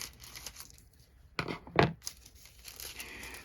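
Foil pulled from a box and cut, heard as a short crinkling tear followed by a louder crumpling rustle, close and alone against quiet room tone.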